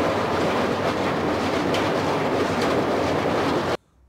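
The 20505 Dibrugarh–New Delhi Rajdhani Express runs along with a dense, steady rolling rumble and faint wheel clatter heard from on board, then it cuts off abruptly near the end. No one speaks.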